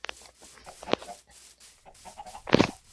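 Chickens on a video game farm cluck in short scattered bursts, with one louder squawk near the end, close and fairly quiet against a soft background.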